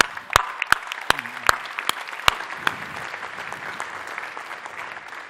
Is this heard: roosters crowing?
no